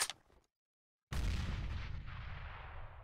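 A flashbang grenade goes off in a video game: a short sharp crack, a moment of silence, then a loud, booming blast with a long ringing decay.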